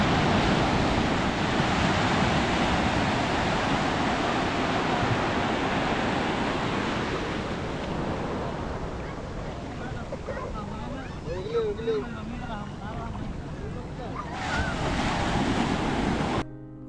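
Sea surf at Cox's Bazar beach, where fishermen haul nets through a strong current: a constant loud roar of breaking waves with wind buffeting the microphone, easing slightly midway, with faint voices briefly audible in the background.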